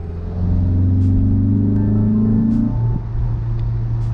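A Honda S2000 sports car engine under way, rising in pitch with a loud, close rev before easing off after a gear change, then droning on steadily.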